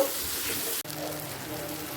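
Chopped onions and green chili frying in a pan over medium flame for a Bengali katla fish curry, a loud, steady close sizzle broken by one brief stir.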